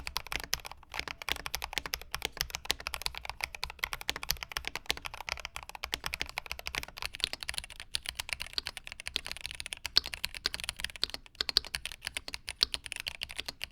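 Steady, rapid typing on a Corsair K65 Plus wireless mechanical keyboard, a dense run of close, crisp keystrokes with a lower, fuller tone, continuous throughout with no talking.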